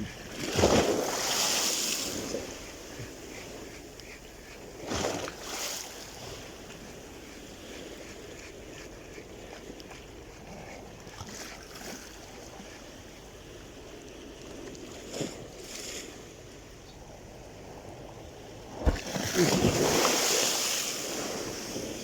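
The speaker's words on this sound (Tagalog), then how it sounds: "Grabe ang alon." Sea waves surge and crash in repeated swells, with loud bursts near the start and end and wind rushing between them.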